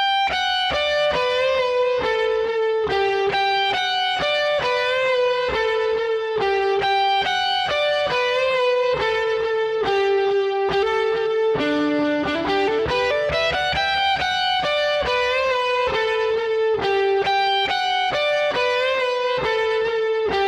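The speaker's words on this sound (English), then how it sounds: "So let's go to the electric solo that sounds like this." Electric guitar solo played through a JHS Superbolt overdrive for the worship song Behold the Lamb: loud, sustained driven lead lines with a sweeping upward slide midway, playing continuously with no talking.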